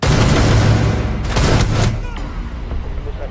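Gunfire in the video game Rainbow Six Siege, a loud burst of rapid close shots followed by a sharp bang, then fading echoes and quieter background noise.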